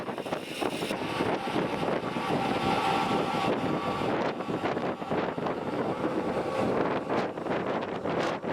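Steady wind at Dumont Dunes buffeting the microphone, a continuous rough roar with gusty surges throughout, no voices.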